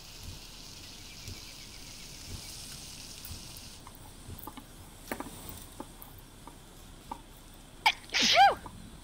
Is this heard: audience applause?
no